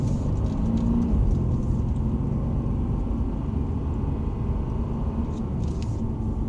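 A powerful car's engine drones steadily from inside the cabin while driving, a constant low rumble with road noise and no clear revving peaks.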